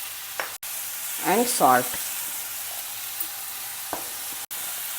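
Chopped tomatoes with chilli powder, turmeric and salt frying in hot oil in a pan for a South Indian tomato onion gravy: a steady close sizzle throughout, with a few scraping stirs and a brief spoken phrase near the start.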